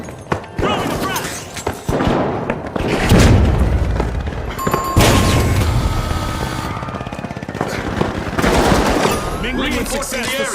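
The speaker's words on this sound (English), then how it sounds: "Throwing a frag!" A frag grenade thrown and bursting in the shooter game The Finals, a loud boom landing amid continuous rapid gunfire and heavy thuds, dense and close, with voices calling out over the combat.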